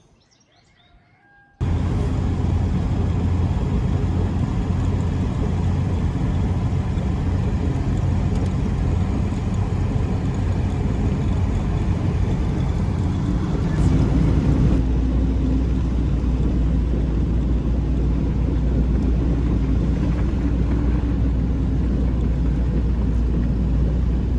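Car driving along the road on a trip into town, a loud steady broadband rumble of engine and tyre noise filling the cabin throughout, with a faint early bird chirp and no talk.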